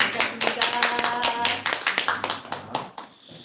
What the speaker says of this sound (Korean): 우리 환영의 박수 한번 하시죠